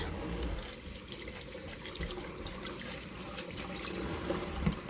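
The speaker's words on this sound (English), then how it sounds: "step 1 requires us to wash our tomatoes, our green pepper, and our cucumber" Tap water runs steadily into a sink while tomatoes, a green pepper and cucumber are rinsed under it, a continuous close splashing with small irregular clunks.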